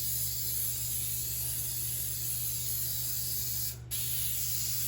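A cooking spray can hisses out in one long steady jet over bread sticks, continuous and fairly loud with a brief break near the end.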